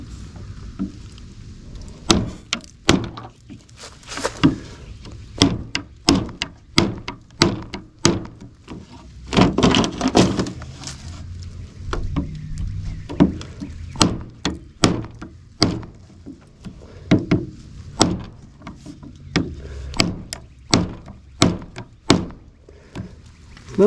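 A Cold Steel AD-10 Lite knife chopping into RG11 coax cable, a long series of sharp repeated thunking strikes at an uneven rhythm, close and loud, with no talking.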